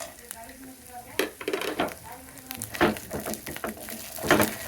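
Whole cloves, cardamom pods and a piece of cinnamon fry in a pan while being stirred, with scraping and clinking spoon strokes over a light sizzle, occasional voice in the background.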